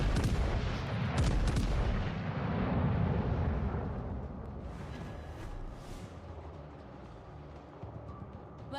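Artillery fire in a video game rumbles as a dense, heavy barrage of overlapping booms, loud at first and then slowly fading into a distant, rolling roar.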